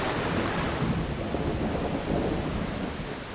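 Heavy rain pours steadily in the wet season of a bear habitat, with a deep continuous rumble of thunder underneath and dense, roaring wash filling the whole clip without any voices.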